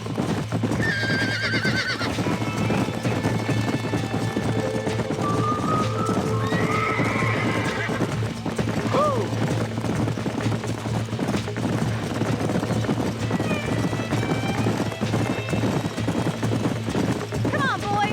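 Horses whinny and neigh several times in the video game Red Dead Redemption, over a steady rumble of galloping hooves and motion, with voices talking throughout.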